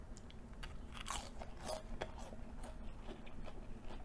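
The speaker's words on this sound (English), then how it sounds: "Final bite there." Someone bites into and chews crispy fried basa fish or catfish, producing a close run of soft crunches and wet chewing sounds that repeat unevenly over a few seconds against a faint background hum.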